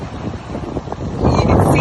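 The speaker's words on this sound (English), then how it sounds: "It seems windy because it is." Wind buffets an outdoor microphone with a steady broadband rush that swells louder in the final half second, with no talking.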